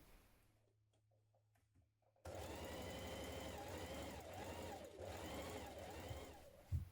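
A domestic sewing machine runs a steady stitching burst on a dress pocket seam, starting abruptly after a quiet pause and whirring loud and close with a fast mechanical rhythm until the end.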